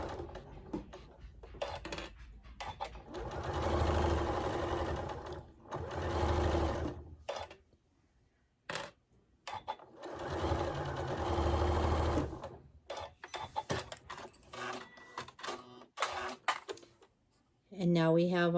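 A sewing machine stitches down a bear paw quilt block in bursts of steady, rapid mechanical whirring, stopping and starting between runs, with a brief voice near the end.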